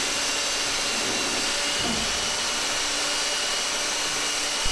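A power sander smooths down wooden structural pieces during temple construction, a steady, loud whirring drone with a brief lower grinding dip as the tool bears into the wood.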